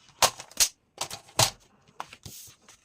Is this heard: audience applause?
no